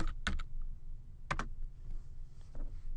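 Typing on a computer keyboard while working in Rhino 3D software: two short bursts of crisp clicking keystrokes, near and fairly loud, with fainter scattered clicks after, no talk.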